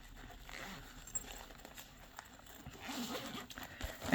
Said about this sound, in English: It's got double zips on the top.